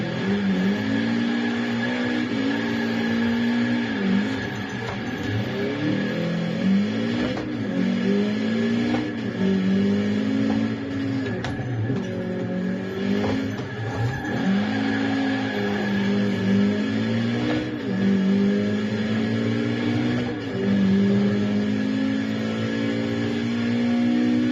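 Racing video game car engine revving and accelerating steadily, with repeated gear-shift drops and rising pitch sweeps, loud and close throughout with no talk.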